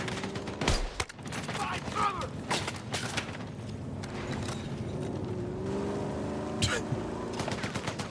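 Rapid bursts of gunfire and mechanical clatter in a shooter video game, dense and continuous at mid distance, with a few sharp louder shots standing out.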